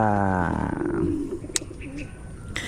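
Birds coo in an aviary, a low repeated pigeon-like call with a few brief chirps over a steady background.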